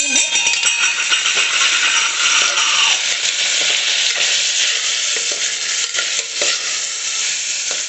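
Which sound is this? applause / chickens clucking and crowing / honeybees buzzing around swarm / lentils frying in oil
lentils frying in oil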